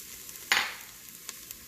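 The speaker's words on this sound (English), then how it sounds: "You can hear the sizzle." Garlic stir-frying in a Magic Chef multi-cooker gives one short, sharp burst of sizzling as it is stirred, settling to a faint hiss with a couple of small crackles afterward.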